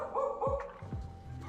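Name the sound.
dog barking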